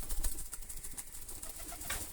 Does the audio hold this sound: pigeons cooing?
yes